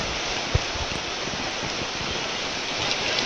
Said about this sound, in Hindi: अमरोहा की तस्वीरें हैं जहां सुबह से ही मूसलाधार बारिश हो रही है